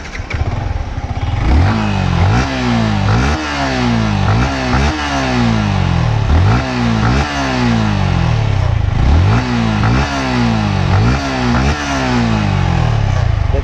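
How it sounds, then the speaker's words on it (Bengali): A modified second-hand Yamaha MT 150cc ABS motorcycle, Indian BS6 model, revs repeatedly up close, its engine note rising and falling in a steady cycle of about a dozen loud throttle blips over a rough idle. "দেখো বাইকের সাউন্ড।"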